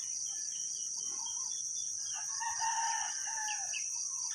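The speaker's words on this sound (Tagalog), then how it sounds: "mga huni ng ibon, tilaok ng manok" A rooster crows on a farm, a single call rising midway through over a steady, shrill chorus of insects in the background.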